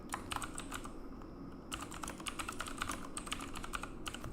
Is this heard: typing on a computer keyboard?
yes